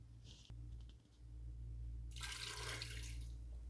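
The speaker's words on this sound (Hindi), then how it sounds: "और 2 कप प्याली पानी डालेंगे।" Water is poured into a pressure cooker holding mutton, ginger, garlic, onion and ground whole garam masala for shami kabab, making a steady, close splashing rush in the second half over a low background hum, with no talking.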